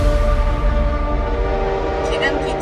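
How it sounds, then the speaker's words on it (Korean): A train rolls past with a steady low rumble and sustained tonal horn lines running throughout, loud and close, with some brighter high-pitched squeal near the end; a faint voice may sit under it. "지금 기차가 제2일 공동경제 구역을 지나고 있습니다."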